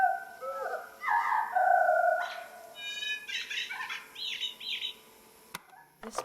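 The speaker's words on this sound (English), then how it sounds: "Ooh, cool bird noise." Video game bird calls from Jump King: a run of chirps and warbling tweets, some bright and trilled, close and clear with no talking, ending in a brief soft click.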